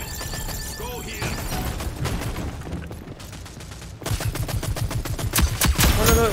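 Gunshots in the team shooter Rogue Company, with steady rapid bursts of automatic fire throughout, growing louder and punchier in the final two seconds with sharp close shots.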